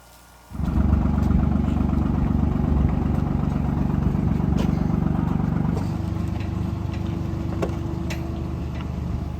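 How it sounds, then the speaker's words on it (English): A large air compressor starts up and runs loud and steady, a heavy low engine drone with rhythmic chugging, driving air through a line into a machine pumping cement into a house. "That massive machine there is just an air compressor that is running up air up through this line into that machine"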